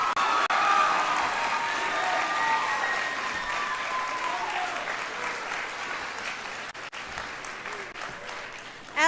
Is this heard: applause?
yes